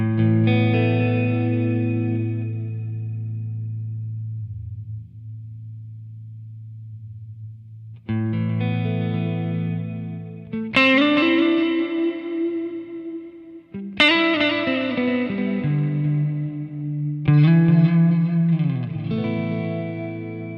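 Electric guitar through a LEKATO Tank-G processor pedal with analog delay and reverb, playing several sustained, distorted chords and bent lead phrases that swell and fade into echoing tails, loud and up close with no voices.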